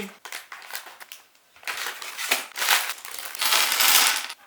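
Plastic LEGO Mixels packaging being cut open with scissors, a series of crinkling, crunching rustles that start sparse and grow louder and denser toward the end.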